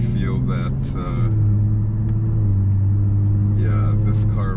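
Inside a Kia Stinger GT all-wheel drive car in comfort mode, a steady low engine and road rumble drones throughout while people talk over it.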